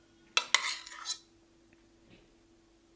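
A spoon scrapes and clinks against a bowl while chocolate glaze is spooned over a cake, a few short metallic taps and a brief scraping stroke, then quiet.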